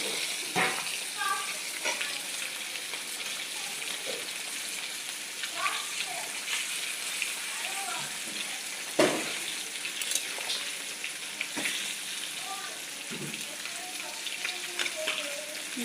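Rohu fish pieces fry in a pan with a bright, continuous sizzle and crackle, punctuated by occasional clinks and a louder knock, moderately close.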